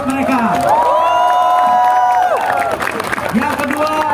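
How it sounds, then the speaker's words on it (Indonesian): A loud crowd cheers, whoops and claps during the celebration convoy for Indonesia's national football team after their SEA Games gold, with high shouts and whistles rising above the clapping close by. "Tepuk tangan buat mereka"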